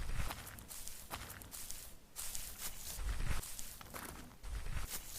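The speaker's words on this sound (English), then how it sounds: "There's a dirt sound." Footsteps on dirt terrain in the CopperCube 6 game engine, a rhythmic run of soft, gritty crunching steps, close and fairly quiet, with no voices.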